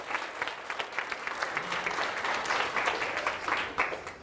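An audience gives a round of applause, dense steady clapping that swells slightly in the middle and carries on to the end.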